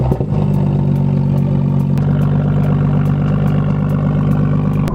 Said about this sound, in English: So this car got the M Performance exhaust from factory. It's a whole catback, and it sounds awesome.